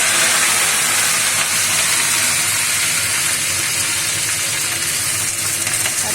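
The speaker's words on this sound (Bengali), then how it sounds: "এবার তেলের মধ্যে কারি পাতাগুলো দিয়ে দেবো।" Curry leaves fry in hot oil for aloo bhujia, giving a loud, steady, hissing sizzle that runs without a break from start to finish.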